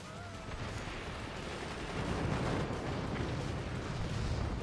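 Explosions rumble in the Forts strategy game, with heavy low booms and crackling blasts that merge into a continuous loud barrage, swelling a little partway through.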